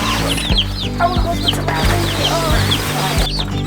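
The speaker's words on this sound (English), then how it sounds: "Yellow chickies!" Tiny yellow chicks, hatched a day earlier, peep in a busy barn amid clucking hens and a low rumbling background hum, their thin chirps steady and close.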